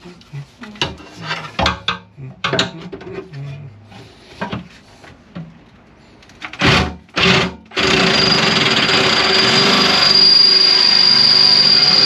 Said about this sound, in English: I'm going to try and drill that bad screw out.